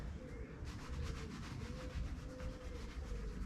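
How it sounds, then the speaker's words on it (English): Polish rubbed by hand onto the painted wood of an old whisky barrel, lifting off the paint, making a steady, quiet rasping scrub in regular back-and-forth strokes, with faint cooing birds nearby. "yeah, it's polishing off the paint alright, then give that polish up and down."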